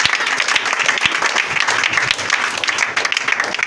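Church congregation applauding loudly and continuously, a dense wash of many hands clapping close up with no break.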